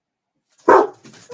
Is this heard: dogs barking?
yes